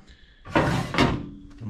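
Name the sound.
drawer opened to get sandpaper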